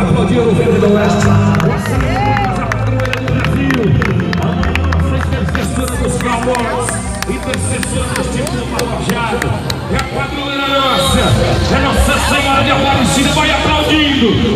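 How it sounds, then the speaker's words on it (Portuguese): Rodeo arena crowd in Brazil cheering and clapping as an announcer calls for applause, a loud continuous roar of voices with scattered claps and a PA voice over the top throughout. "Vamos aplaudir Nossa Senhora"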